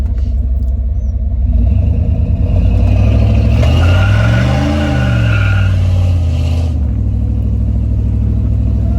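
Stock small-block 350 V8 in a 1991 GMC truck runs loud and close, a deep rumbling idle that swells through a revving rise and falls back to a steady growl.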